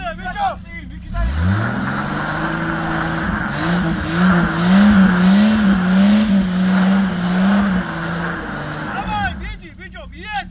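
An off-road car engine revving hard as it climbs over large rocks, a loud sustained roar that rises and wavers for several seconds, with people shouting and talking close by.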